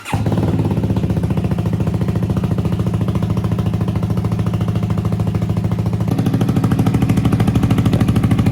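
CFMoto 300NK motorcycle engine starting and settling into a steady idle for its first service oil change, a close, loud, even mechanical putter that rises slightly near the end, no talk.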